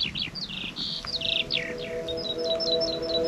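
A bird chirps and whistles repeatedly in short bright phrases near a hillside path around Grasmere in the Lake District, clear above soft wind.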